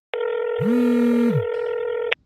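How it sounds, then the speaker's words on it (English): Telephone keypad tones sound as a call is placed, a steady loud tone with a lower second tone layered over its middle portion, close and clear. "We had the opportunity to get on the phone with trainer Xavier Rodriguez"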